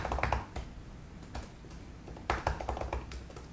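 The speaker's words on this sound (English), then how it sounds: "And just typing in my email address." Keys clatter on a Microsoft Surface Go keyboard as an email address is typed, in quick close bursts of soft taps separated by short pauses, quiet and with no talking.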